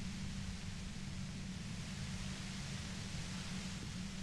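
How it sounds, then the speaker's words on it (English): Steady hissing static runs in the Disco Elysium video game, an even, unbroken wash of faint noise with a low hum beneath it and no voices. "You hear through the white noise. It's especially bad suddenly."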